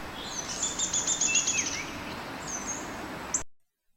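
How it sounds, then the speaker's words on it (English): A downy woodpecker whinny: a brief, high, rapid run of squeaky notes that slide downward, lasting about a second and a half, followed by a lone high note. "A downy woodpecker is smaller, so his whinny is higher and shorter."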